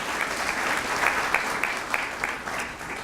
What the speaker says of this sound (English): about a round of applause for the McAllen Education Foundation?